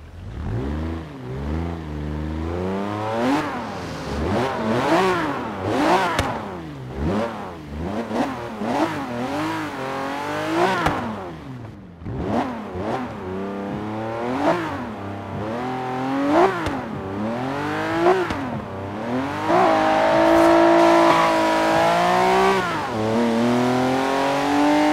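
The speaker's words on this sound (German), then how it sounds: "Hier haben wir jetzt natürlich keinen Turbomotor drin, das heißt, der Boxer-Sound sollte jetzt hier nochmal ein bisschen kerniger rüberkommen." Porsche 911 GT3 with a naturally aspirated boxer engine in the racing game Forza Horizon 3, revving up and down again and again in rising and falling sweeps, loud and close throughout, with no talking.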